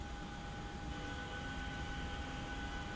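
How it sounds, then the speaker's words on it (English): An airliner sitting behind the player's aircraft at an airport in Microsoft Flight Simulator 2024, a faint steady jet engine hum with thin constant whine tones, unchanging for three seconds. "I hear a plane behind me."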